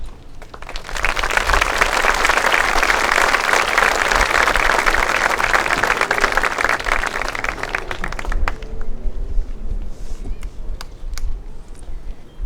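An audience at a high school commencement ceremony breaks into sustained, dense applause to welcome a graduation speaker, holding steady for about eight seconds before thinning out into a few scattered claps.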